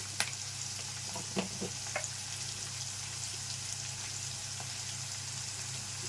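Chopped onions fry in oil in a pan with a steady, even sizzle and a few small pops and stirring taps near the start, close up with no talking.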